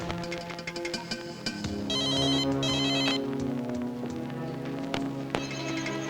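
A telephone rings in repeated electronic bursts over background music, with occasional taps and knocks nearby.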